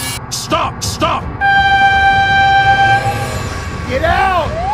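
A train in the BeamNG driving game sounds a long, loud horn blast that holds steady and then bends in pitch as it passes, following short bursts of shouting.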